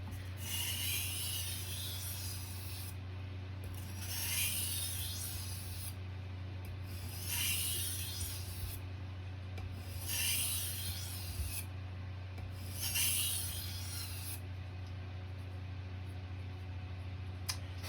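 A kitchen knife drawn across a whetstone: five rhythmic, gritty scraping strokes a few seconds apart, each a rasping swish, heard close over a low steady background hum.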